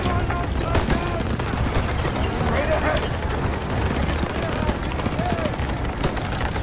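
Dense, continuous gunfire and machine-gun bursts rattle through a World War II campaign battle in a video game, sustained and loud throughout, with bits of shouted voices mixed into the din.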